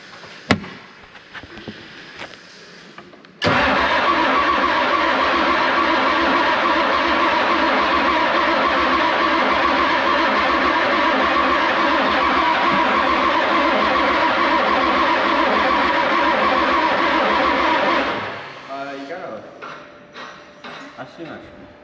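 A John Deere 850JR bulldozer's heavy diesel engine cranks and roars into a loud, steady clatter for about fifteen seconds, then cuts back to a lower rumble with voices nearby.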